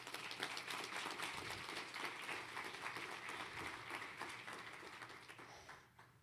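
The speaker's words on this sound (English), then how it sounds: "Could you give CEEJH a round of applause" An audience at an environmental justice conference gives a dense round of applause that carries on steadily and then thins and fades out toward the end. The clapping sounds faint, as if heard from some distance.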